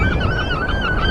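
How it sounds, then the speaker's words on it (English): Seagulls calling on a windy beach near South Pier, a close, loud run of harsh, wavering cries over steady wind rumble. "Listen to the seagulls"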